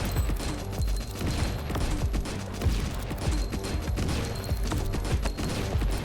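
Explosive shotgun in the game Nimrods firing rapid, dense bursts of blasts that run continuously and loudly, with no pauses and no speech.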